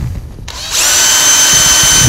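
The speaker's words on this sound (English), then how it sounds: "Let's put our drill on the fast speed." A power drill fitted with a Forstner bit spins up to fast speed, shifting from a brief lower whir into a loud, steady high-pitched whine close by, as it bores into wood for a rustic stool.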